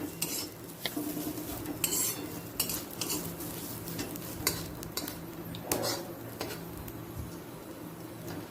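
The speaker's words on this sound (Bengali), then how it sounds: "খুব সুন্দর করে একটা খড়খড়ের আওয়াজ হয়তো আপনারা শুনতেই পাচ্ছেন" Potato peels frying in a pan with light crackling, accompanied by frequent close clinks and scrapes of a utensil stirring against metal, steady and fairly quiet throughout.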